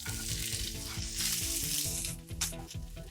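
Onion searing in olive oil in a pan, a loud, steady hiss and crackle filling the whole stretch, with a few brief bursts as the pieces are tossed; no one speaks.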